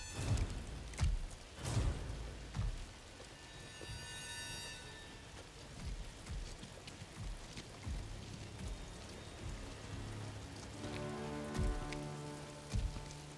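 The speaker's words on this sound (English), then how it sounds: "Wow, the rain on her helmet." Steady rain patters on a character's helmet in the Star Wars Jedi Fallen Order video game, a continuous close hiss with scattered drop ticks and a low rumble underneath, no talking.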